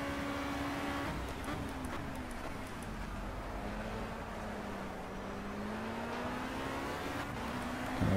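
Race cars in the racing game Project CARS drone past on a straight, a steady engine whine sweeping in pitch as they overtake, faint and continuous under a low hum.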